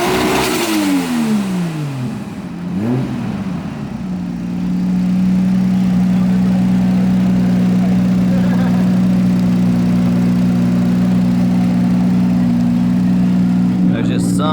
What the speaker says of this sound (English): There's just something about the way an RB25 sounds.